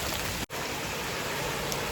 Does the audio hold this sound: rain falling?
yes